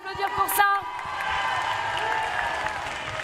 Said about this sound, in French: Est-ce qu'on peut les applaudir pour ça?